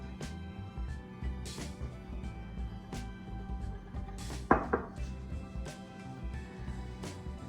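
Hands knead bread dough on a floured surface, making soft, irregular thumps and pats up close, with one sharper knock partway through and no talking.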